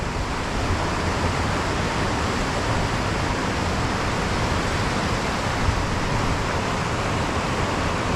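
Careyburn waterfall roars as a dense, unbroken rush of falling water, steady and loud throughout from a spot just above the falls, with no voices.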